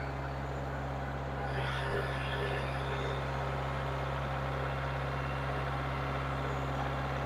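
A tractor engine with an LA805 front loader drones steadily at close range, its pitch and loudness rising a little as the throttle opens partway through while the loader lifts.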